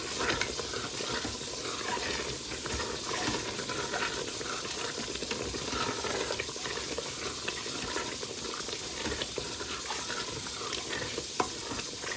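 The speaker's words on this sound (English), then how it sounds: "stir this up again. Making sure to scrape up the bottom." A spoon stirs beef bolognese in an Instant Pot, scraping the bottom, a steady close wet scraping and sloshing with a faint sizzle running throughout, no voices.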